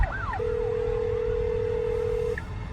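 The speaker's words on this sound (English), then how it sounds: "There's an ambulance coming." An ambulance siren wails up and down, then settles into a steady tone, heard from inside a Tesla on a Texas road, over continuous road and engine noise.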